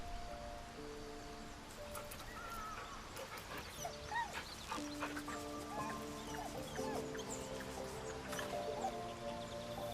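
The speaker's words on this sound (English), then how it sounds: "The dog wags his tail, a small bag clenched between his teeth." A dog in the video game Baldur's Gate 3 whimpers softly amid a busy, dense game soundscape of wet squishing, dripping and scattered tonal effects, with faint whines rising and falling over a steady background.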